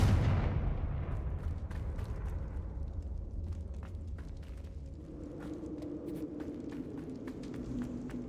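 A Confringo fire spell goes off in the Hogwarts Legacy video game, a loud deep blast at the start that rumbles and fades over several seconds into a low sustained hum with faint crackles.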